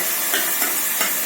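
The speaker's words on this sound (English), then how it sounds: "I'm going to add 2 tomatoes and just stir it" Tomatoes being stirred into roasting lamb in a pan make a brief hissy sizzle with a few soft scraping stirs close by, and no voices.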